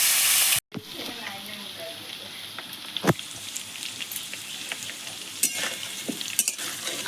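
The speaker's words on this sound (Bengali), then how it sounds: "আলু ডাঁটা ভাজা ভাজা হয়ে গেছে" Potatoes and drumstick stalks fry in a pan while being stirred, giving a steady close sizzle with repeated scraping clatters of the spoon throughout.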